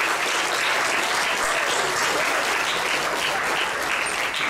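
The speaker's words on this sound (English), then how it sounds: "Great, give them a round of applause." Dense, sustained applause from an audience at a UN Day gathering for students who run a paper-recycling collection, a continuous loud wash of clapping with no break.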